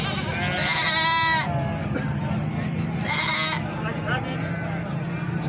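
Goats of a short-eared breed bleat loudly at a crowded livestock market, two long wavering calls rising above a steady murmur of background chatter and crowd noise.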